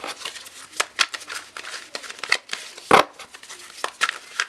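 A deck of tarot-style cards is shuffled by hand in quick, uneven bursts of riffling and sliding, close and fairly quiet, with a sharper slap near the middle.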